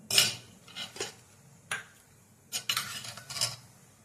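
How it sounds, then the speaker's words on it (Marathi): A spoon scoops cooked black chickpeas out of a pot in a Marathi kitchen, making a few short clinks and scrapes against metal in separate bursts, with quiet gaps between them and no talking. "2 चमचे चना काढून घेते मी।"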